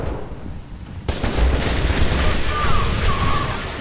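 Weapon fire in the video game F.E.A.R. 2: a dense, booming burst of shots that starts after a second of quieter ambience and then rolls on continuously, loud and close, with some background game noise.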